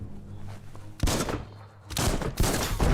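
Gunfire and explosive blasts in the video game Biomutant as a gate is shot and blown apart: three heavy, loud bursts with crackling debris, separated by brief rumbling pauses.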